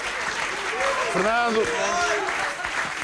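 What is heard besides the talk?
audience applause for Jorge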